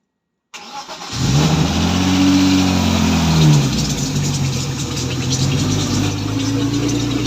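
A drift car engine cranks and catches after a short silence, then revs up through a rising sweep and settles into a loud, steady run close by.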